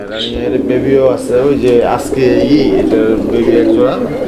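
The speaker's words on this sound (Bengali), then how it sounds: "এটা মাদি কবুতর" Black Lakha pigeons, a pair kept in cages on a pigeon farm, coo in low throbbing repeated phrases while people talk nearby.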